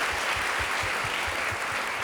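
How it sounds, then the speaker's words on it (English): A ceremony audience applauds the strings and choir, a continuous broad wash of clapping from a large crowd, steady and fairly distant for the whole stretch. "Let's give them another big round of applause."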